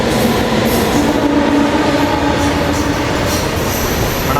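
A goods train rolling past near Bapatla, its wagons rumbling loud and close in a steady roar with faint wheel squeal and clatter throughout.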